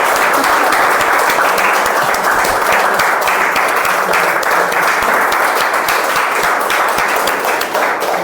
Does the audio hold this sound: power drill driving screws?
no